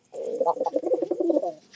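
Pigeons coo in a close, clear run of throaty, pulsing notes lasting under two seconds, with no other sound around them.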